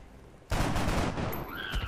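A soldier's gun fires in the turn-based strategy game X-COM: an abrupt loud blast, then a rattling burst of shots that trails into a tonal ringing, with no talk.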